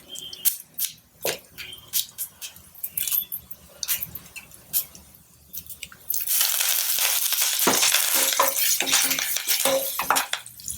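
Dry red chillies, hing and curry leaves hit hot oil for a chickpea sundal: scattered utensil clinks and taps at first, then a loud, steady hiss of sizzling takes over for the last few seconds, with no voices.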